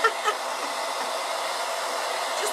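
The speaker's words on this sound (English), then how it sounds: "Sorry about the hair dryer." A hair dryer runs steadily indoors, a constant loud airy whir with no breaks, alone without any talking.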